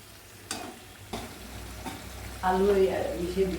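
Mutton cooking with garlic and ginger paste in a pan, a moderate sizzle with a few sharp scrapes of a spoon, then a voice speaking over the frying near the end.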